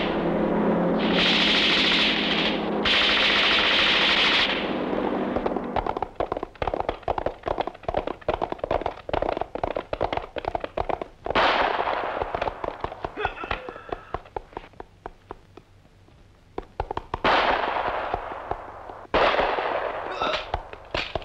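Sharp bursts of wartime gunfire crack repeatedly in a Vietnamese war film, with rapid irregular shots and a few heavier blasts, loud and close, mixed with voices and other battle noise.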